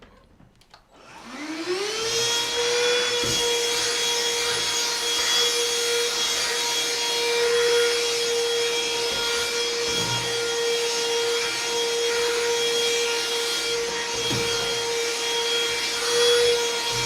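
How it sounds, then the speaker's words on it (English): Close, loud vacuum cleaner runs steadily after a short start-up whoosh, sucking up a dropped chocolate cookie indoors, with a constant high whine and a few faint scraping knocks along the floor. "I just dropped my cookie. I need to vacuum it."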